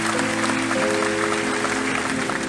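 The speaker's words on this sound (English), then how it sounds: "So could you give them all a round of applause, please?" A concert crowd applauds during the finale of a show, dense steady clapping with sustained musical tones ringing underneath.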